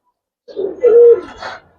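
A large silver-coloured pigeon at a pigeon market gives a single short, close, fairly loud coo lasting about a second, with no talking.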